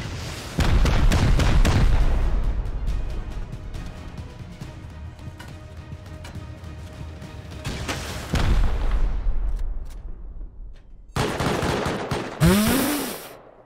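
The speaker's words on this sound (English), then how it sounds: "I'm just gonna keep shooting the rest though, until this launcher breaks" Rocket launcher firing in a Rust-style survival game, with heavy repeated blasts and booming explosions rolling through a loud battle, then a brief pause and a final burst of blasts and a rising whine.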